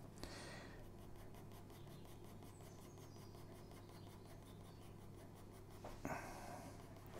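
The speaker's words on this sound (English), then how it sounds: "So I'm just using my HB pencil there, just going into some of the darker areas." An HB pencil shades the darker areas of a drawing on paper, giving a faint, steady scratching that runs continuously and gets slightly louder near the end, with no talking.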